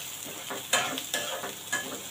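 Sliced onion and dried coconut fry in hot oil with a bright, continuous sizzle, while a spoon stirs in three or four regular scraping strokes close by.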